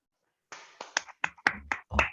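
A Grade 6 English class claps for its reading stars: a handful of sparse, uneven claps and taps, fairly close and quiet, spaced irregularly after a silent start.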